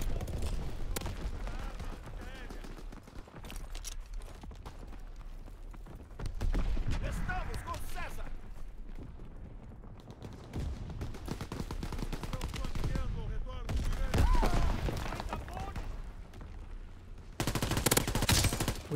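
Call of Duty WWII gameplay brings repeated bursts of automatic gunfire and single shots, loud and close, alongside ambient battle noise and occasional talking.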